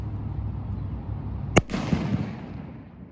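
A flashbang firework bursts with a single sharp, loud bang midway, followed by a short crackling tail and fading rumble over quiet outdoor background.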